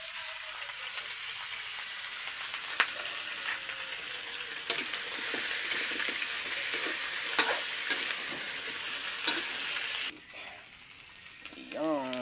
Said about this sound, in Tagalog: ilagay ko na yung ating lechon dyan.